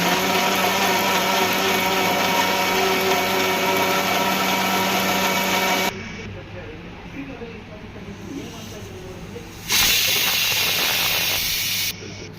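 A mixer grinder roars loudly for several seconds, cuts to a lower rattling whir, then surges back to a loud grinding burst before ending.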